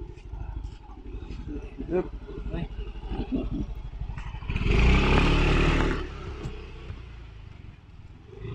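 Motorcycle on a beach road in the Philippines, heard from a helmet-mounted camera as a steady engine drone under wind rumble, swelling louder for a couple of seconds midway as it accelerates.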